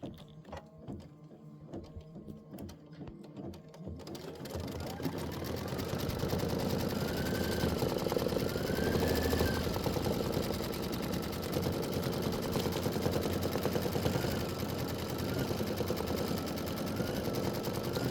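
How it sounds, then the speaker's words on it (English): Embroidery machine sewing a placement stitch for a quilt block, a loud steady rapid needle clatter that starts after a few seconds of quieter tapping and handling and then runs on continuously and close. "And let's do our placement stitch."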